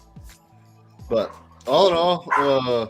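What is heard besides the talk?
dogs barking, a puppy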